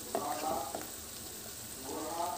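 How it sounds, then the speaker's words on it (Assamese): Spices frying in oil for chicken curry, cumin, red chilli and coriander powder being stirred, a steady close sizzle with occasional spoon scrapes and a few soft taps. "আৰু এইখিনি এতিয়া আকৌ এবাৰ ধুনীয়াকৈ লৰাই ল'ম আৰু অলপ সময় ভাজিম।"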